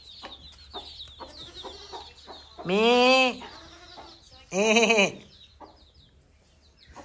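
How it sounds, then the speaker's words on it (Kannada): Chicks and hens in a village yard peep and cluck steadily throughout, while two loud, drawn-out bleating calls rise above them partway through. "ಪುಟಾಣಿ ಕೋಳಿ ಮರಿಗಳು ಬಂದು"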